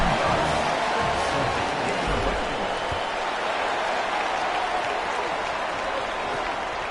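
Home crowd in an NCAA Football video game, a steady loud roar of cheering and applause filling the whole stretch, with a faint voice underneath early on.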